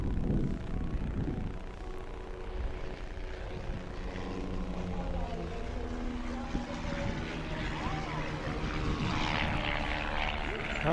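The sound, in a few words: air race airplane propeller engine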